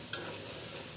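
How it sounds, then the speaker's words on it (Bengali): Dried taki fish sautéing in a pan for a Bengali komli greens curry, giving a steady close hiss with a faint stir near the start and no voices. "শুটকি মাছটা ভালোভাবে কষিয়ে নেব"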